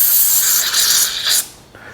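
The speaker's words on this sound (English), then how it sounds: "What we'll do is we'll spray the living daylights out of it." Carburetor cleaner sprays hard into a gunked-up small-engine carburetor in one close, loud, continuous hiss that surges slightly before cutting off sharply near the end, leaving a quieter tail.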